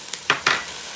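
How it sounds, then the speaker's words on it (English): Onions going into a hot Power XL multi-cooker, giving two short bursts of sizzling and stirring about a second apart, close and fairly loud, then settling into a low steady hiss. "I'm going to put my onions in here now and just let them get just a little bit brown."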